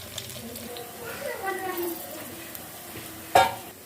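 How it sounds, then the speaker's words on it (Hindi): Onions sizzle in hot cooking oil with a soft steady frying hiss, a clatter of stirring, and a sharp clink near the end. "इसमें प्याज डालेंगे और इसको हम फ्राई कर लेंगे।"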